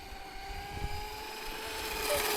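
A Traxxas UDR radio-controlled truck runs with a steady, high, whining motor drone that rises slightly in pitch and loudness toward the end, heard continuously without a break.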